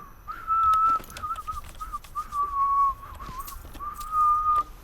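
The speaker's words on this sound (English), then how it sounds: "I just like how this guy's whistling away" A character whistles a wavering, melodic tune in Dishonored: Death of the Outsider, a video game. The whistle comes in clear, repeated phrases with short pauses between them, set against soft ambient game sound.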